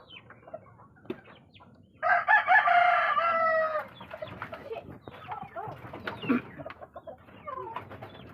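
A rooster crows loudly in a sustained call, surrounded by scattered clucks and calls from several chickens nearby.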